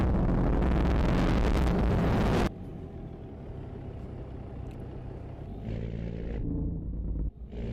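Engine of a car in a racing video game, sounding crackly and faulty: a loud, harsh roar that cuts off abruptly, then a rougher, lower idle-like rumble with brief revving bursts.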